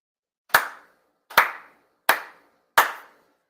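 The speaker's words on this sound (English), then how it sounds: "4 sincere claps along with the head officiant." Four single ceremonial hand claps at a monthly religious ceremony, evenly spaced about a second apart, each crisp and isolated in a quiet room.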